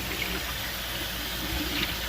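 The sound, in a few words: water running from a tap while washing hands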